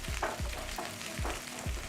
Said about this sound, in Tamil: வெங்காயம் சேர்த்து சீரகம் வெங்காயம் சேர்த்து வதக்கி போடும்போது